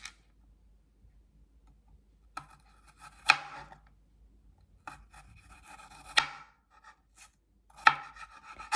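A knife cuts garlic into thin strips on a quiet board, giving a few sharp, separate chops spaced a couple of seconds apart, each with a short scraping tail.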